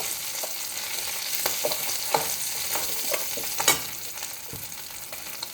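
Fish frying in hot oil for a green banana curry, a bright continuous sizzle broken by crackles and spatula scrapes, close and loud with no talking.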